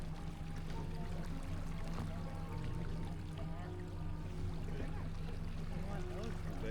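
A motorboat cruises through the channels of the Fulton Chain of lakes, its engine a steady low drone under constant water wash and hull splashing, loud and close throughout.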